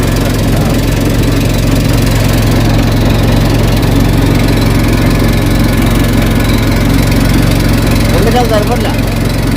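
Boat engine running steadily on the river at the Mahakumbh Mela, a continuous close, loud mechanical drone that lasts throughout, with voices faintly audible over it.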